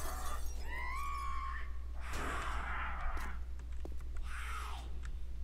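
Glass shatters in the video game 7 Days to Die, in two bursts of crashing, tinkling shards over a steady low hum, with brief whistling tones between them.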